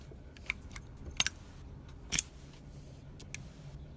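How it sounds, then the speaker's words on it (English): Newly cut keys for a Yamaha motorcycle being tested in the lock: scattered light metallic clicks and jingles, with a couple of sharper clinks among them, close but faint against a low background hum. "And we have our two keys already cut. Okay. Let's go ahead and try them out"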